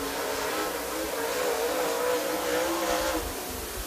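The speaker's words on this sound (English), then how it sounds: "Here we go with the number 33 car of Brian Reese" A super late model race car pulls away on a qualifying lap at Dixie Speedway in Woodstock, Georgia, its engine roaring loud and steady for the whole stretch with a rising, revving pitch.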